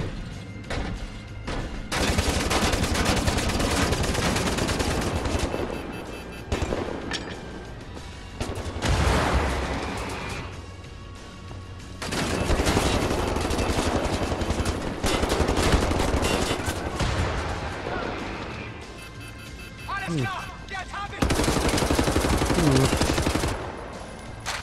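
A laser gun fires in Wolfenstein: The New Order, loud sustained bursts of rapid shots in several long volleys separated by brief lulls, with occasional impacts in between.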